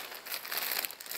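Crinkly plastic bag of 1960s rhinestone jewellery being opened, a steady, close rustling and crumpling that runs continuously for about a second with no talk.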